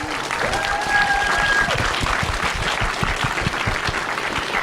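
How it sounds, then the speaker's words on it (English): Audience applause at a Design Disruptors event in Dallas, a dense, sustained clapping from a crowd that carries on steadily throughout. "Can we give them a round of applause?"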